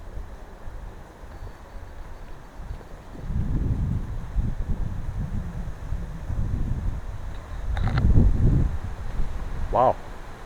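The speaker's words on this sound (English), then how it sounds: "it's a bit windy because we are next to a body of water next to the lagoon, so that's what's causing all this wind" Wind gusting at the waterfront of Laguna Muyil in the woods of Sian Ka'an, Mexico, buffeting the microphone in low rumbling surges that rise and fall, with voices faintly present in the background.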